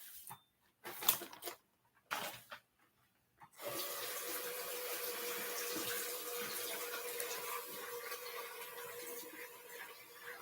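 Tap water runs steadily from a faucet into a sink while hair is rinsed after coloring, a continuous close splashing rush that starts after a few seconds of quiet handling noises.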